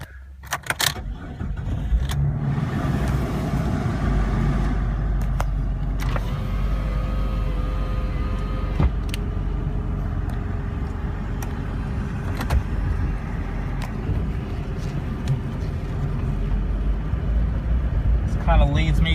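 A lifted Jeep Cherokee Sport XJ on a test drive, heard from inside: a continuous low road and engine rumble with occasional clicks and rattles, steady and fairly loud throughout.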